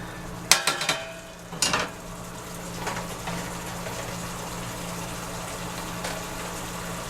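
Mountaineer hash fries and browns in a pan on a stove, a steady low sizzle that opens with a few sharp clanks of the pan or utensil.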